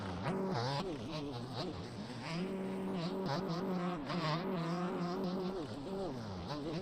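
A two-stroke motocross bike engine at an MXGP race round in France, buzzing and wavering in pitch as it revs, heard steadily under a commentator's talk.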